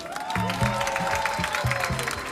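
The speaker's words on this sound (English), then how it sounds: "Let's give one last massive round of applause to all the 10 winners." A commencement audience gives a round of applause for the winners, a dense hiss of clapping hands with low, tone-like sounds pulsing beneath it.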